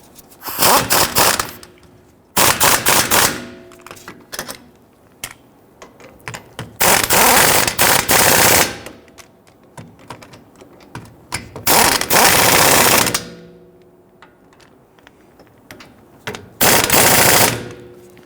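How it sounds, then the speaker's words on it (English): An impact gun snugs wheel hub bolts on a 2010-2019 Ford Taurus during a wheel bearing and hub replacement. It rattles in loud, repeated bursts of a few seconds each, with quiet gaps between them. "Now I want to go ahead and snug these bolts down."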